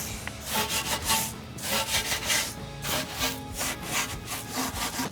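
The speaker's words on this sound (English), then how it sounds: "Now we're gonna grab our Easy Detail barrel brush, kind of get into the nooks and crannies of the barrels." A barrel brush scrubs the inner barrels of a car wheel during a hybrid wash, giving repeated rhythmic rubbing strokes, close and fairly loud, with no talking.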